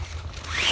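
A zipper on a thick, stiff sail cover aboard a sailboat is pulled in one quick, close, rasping stroke that rises in pitch toward the end.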